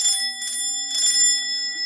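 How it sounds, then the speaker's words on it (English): Antique mechanical doorbell with a bright metallic ring, struck in a few quick rings that leave a clear, sustained tone ringing out between strikes. "and it's a doorbell."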